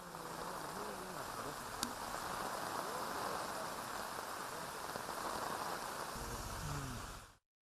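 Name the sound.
continuous heavy monsoon rain in Chikkamagaluru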